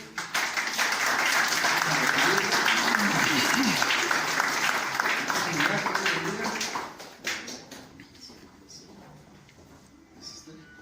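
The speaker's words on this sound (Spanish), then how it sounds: "podemos darle un fuerte aplauso al apóstol" A church congregation gives the apostle a loud, dense round of applause that holds strong for several seconds, then thins out and fades to scattered claps near the end.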